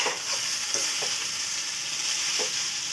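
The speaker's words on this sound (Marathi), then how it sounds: "मिक्स कर मिक्स" Noodles in a hot pan being stirred with chili sauce give a continuous loud sizzle, with a few soft scraping strokes from the stirring. No one speaks.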